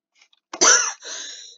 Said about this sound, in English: I'm coughing so bad